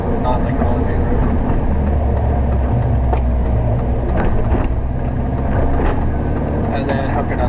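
A racecar with a manual gearbox rolls along a quiet road past stop signs, its steady low engine drone and road rumble continuous throughout, with a few clicks and knocks over the top and no clear shifts.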